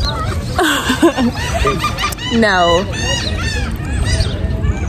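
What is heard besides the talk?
seagulls calling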